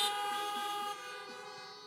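Car horns sound at a drive-in church service, a steady sustained tone of overlapping honks that holds for about two seconds and eases slightly partway through.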